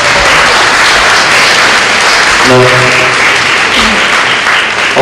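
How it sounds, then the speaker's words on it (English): Audience applause fills the room at an evening tribute event honouring former Prime Minister Basdeo Panday in Mississauga, steady and sustained throughout, with someone briefly speaking over it near the middle. "So please, round of applause."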